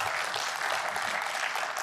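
Audience applause after a business talk, a brief, steady wash of clapping from a room of listeners, fairly close and with no talk over it.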